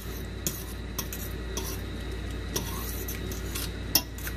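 A utensil stirs a shrimp stir-fry with sauce in a pan, making soft scraping and rubbing sounds punctuated by a few light metallic clicks and taps, quiet and close.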